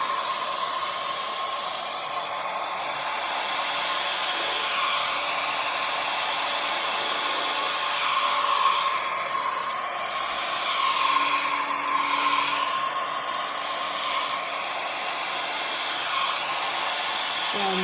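Hair dryer blowing steadily across wet acrylic pour paint, a continuous loud airy roar with slight surges in intensity, alone without talk.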